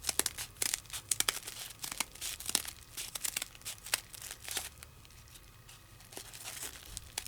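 Paper is cut along a straight edge in steady rapid scraping, crinkling strokes, close and fairly loud, slowing toward the end with no speech.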